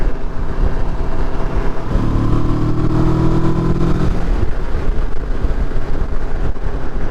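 A Kawasaki Versys motorcycle riding along Cornish coast roads, its engine note rising briefly as it picks up speed, steady and close under heavy wind rush throughout.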